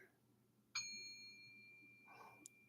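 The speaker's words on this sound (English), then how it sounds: "That was barely a bell." A single small bell dinging once, a clear bright ring with a lingering ringing tail in a quiet room, followed by a brief soft murmur.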